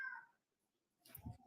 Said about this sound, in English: my cat yelling in the back agrees